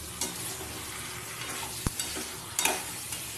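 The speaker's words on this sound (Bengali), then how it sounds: "এবার আমি 2 থেকে 3 থেকে 4 মিনিট ভালো করে আমি কষিয়ে নেব" Chicken pieces sizzle steadily in hot oil in a pan while being sautéed. A spoon scrapes and clinks against the pan now and then, and no one speaks.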